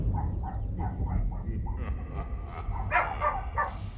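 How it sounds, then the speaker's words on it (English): Several dogs bark in short, repeated bursts beside a Guild Wars 2 game session, with a few higher yips mixed in over a steady low background rumble; no one speaks. "They're barking at whoever's laughing."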